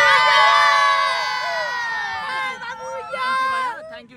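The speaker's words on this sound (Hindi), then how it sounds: "बहुत ज्यादा भीड़ हो रखी है।" A large crowd of people shouts and cheers loudly and close by around a modified Ford Mustang GT, a dense babble of voices that swells and dips without a break.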